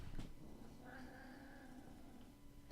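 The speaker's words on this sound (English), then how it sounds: "that's Maximus, my cat." A pet cat named Maximus meows in the background, a faint drawn-out call under steady game noise.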